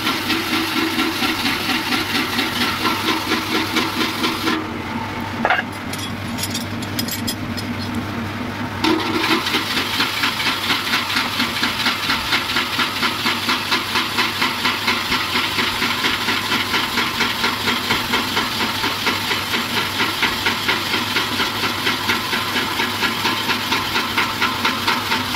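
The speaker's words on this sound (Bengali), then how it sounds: "মোটর কারেন্টে ঘুরছে, চাকার সঙ্গে জয়েন করা আছে" A small electric motor driving a wheel, running as a loud, steady, evenly pulsing hum throughout, with a brief dip in the higher whir near the start.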